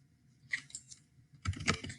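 A name is typed on a computer keyboard in two short, quiet bursts of close keystroke clicks, separated by a brief near-silence.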